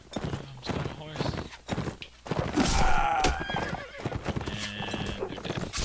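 In the Mount and Blade medieval combat game, horse hooves clip-clop rapidly and a horse whinnies loudly midway, among thuds of battle, while a person talks over the noise.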